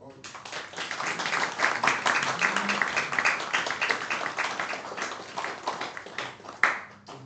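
An indoor audience at a spiritual gathering claps steadily for several seconds, a dense patter of many hands that swells and then tapers off.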